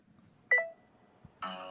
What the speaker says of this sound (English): Timer for 3 seconds. 3-second countdown.